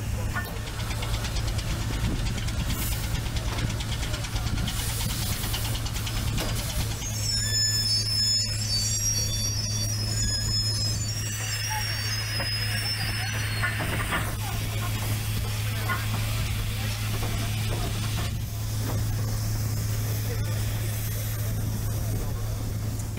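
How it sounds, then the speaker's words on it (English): A Burrell steam crane engine runs with a steady low rumble and a constant mechanical hum, with hissing steam bursts throughout, and a voice speaks over it. "A Burrell crane engine had a self-propelled design used for heavy lift machinery"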